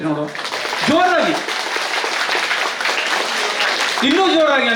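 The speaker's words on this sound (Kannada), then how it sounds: "ಮಕ್ಕಳು ಎಲ್ಲರೂ ಜೋರಾಗಿ ಒಮ್ಮೆ ಚಪ್ಪಾಳೆ ತಟ್ಟಿ ನೋಡು" Children at a trust's anniversary function in Honnavar clap loudly and continuously as a crowd, the applause running steadily with a speaker's voice breaking in briefly at the start and end.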